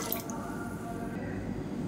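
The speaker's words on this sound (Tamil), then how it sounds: "இப்போ இன்னொரு சொம்பு தண்ணி ஊற்றிக்கலாம்." Water pours from a small pot into a pressure cooker while horse gram kanji is being made, a short, soft, steady trickle and splash.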